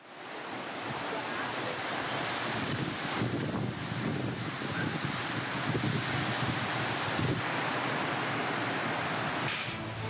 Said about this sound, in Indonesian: hujan deras disertai angin kencang menerjang wilayah Kabupaten Maros, Sulawesi Selatan